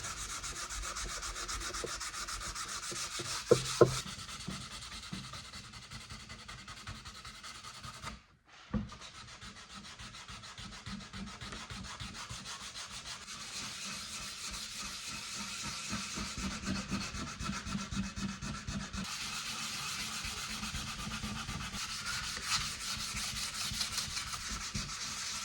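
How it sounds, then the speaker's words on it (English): Steady hand sanding of a mahogany veneer top on an antique Dutch nightstand from around 1800, a continuous close scratchy rubbing that runs almost without a break, with one short pause partway through. "Then I lightly sand the veneer."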